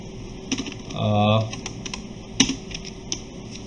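Computer keyboard typing, a rapid series of light clicking keystrokes close by, broken by a short spoken sound early on, with room hum underneath.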